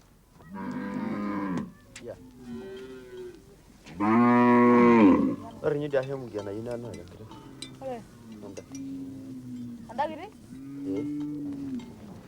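Several Maasai cattle moo loudly, one after another, with long low calls overlapping at times, nearby and clear amid the herd.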